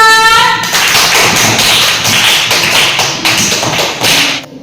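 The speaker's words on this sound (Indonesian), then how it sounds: "Jadi tepuk tangan untuk kita semua" Schoolchildren in an Indonesian classroom clap together in loud, close, rhythmic unison, the sharp beats dense and steady, ending abruptly after a few seconds.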